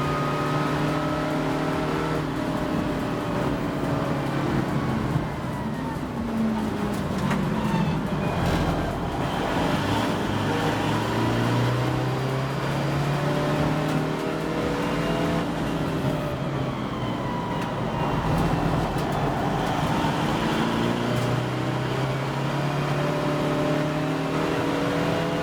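Race cars, including a Ginetta G40, lapping Donington GP circuit in a Roadsports final, engines droning and rising and falling continuously as cars pass at a distance, a steady layered motor roar with no talk.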